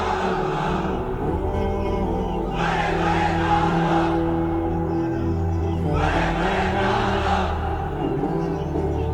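A large crowd at a religious sermon gathering shouts takbir (Allahu Akbar) together in two loud, unified bursts separated by a few seconds of lower murmur.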